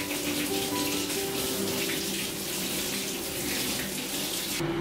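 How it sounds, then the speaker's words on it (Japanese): Steady shower spray hisses continuously up close, a dense wash of water splashing without pause. "いつも通りシャワーで頭を洗い流して"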